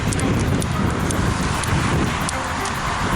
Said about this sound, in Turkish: şiddetli rüzgar var